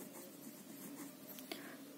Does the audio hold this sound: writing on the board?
yes